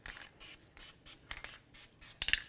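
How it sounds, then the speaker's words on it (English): Copper anti-seize sprays from an aerosol can onto the splines of a front passenger-side CV axle for a 2003-2008 Toyota Matrix, in a run of short hissing bursts separated by brief pauses, quiet and close. "we're going to spray the splines on the axle with a little bit of copper never seize"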